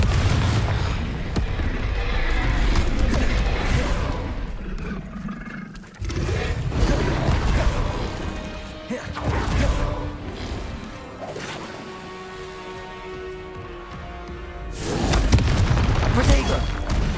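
Confringo fire spell explosions in Hogwarts Legacy burst out in a loud, roaring series of blasts and crashes with rumbling tails, separated by brief lulls, while combat noise and voices mix in around them.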